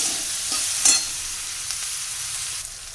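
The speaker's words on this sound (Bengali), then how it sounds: "নুন দিয়ে নাড়াচাড়া করে নিই" Chopped onions with a pinch of salt fry in a pan, a soft continuous sizzle broken by a few scraping stirs of a spatula, heard alone without voices.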